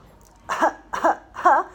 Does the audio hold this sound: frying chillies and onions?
no